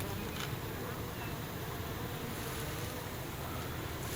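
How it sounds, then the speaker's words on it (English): A steady, dense buzzing hum of many bees fills the air, faint and continuous, with no clear pauses or other sounds. "See if the bees cooperate."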